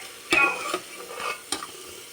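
A tomato mixture fries in a pan while a spoon stirs it, giving a steady sizzle broken by a few sharp scraping strokes against the metal, close and fairly loud with no voices.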